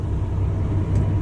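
A small day cab truck driving on the road, with a steady low engine rumble and road noise that stays loud and even throughout, and no one talking.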